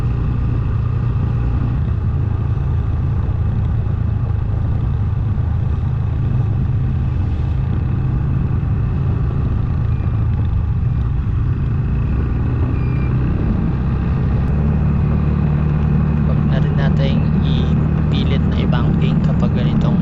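A Motorstar GPR 250 V2 motorcycle fitted with a Yoshimura R77 exhaust rides a wet mountain road, a loud steady engine drone with wind rush throughout and a shift in pitch near the end.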